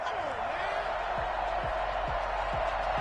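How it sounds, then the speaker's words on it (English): A stadium crowd in the Madden 21 football game on PS5, Patriots versus Jaguars, sends up a steady, dense roar of disapproval after a penalty flag, with commentators talking over it. "Well, the crowd doesn't like that."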